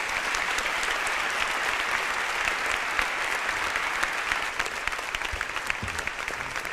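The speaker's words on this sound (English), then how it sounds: "how about another warm round of applause for this panel" Steady, dense applause fills a large hall as a conference audience cheers a health panel, the clapping sustained and even throughout with no talk over it.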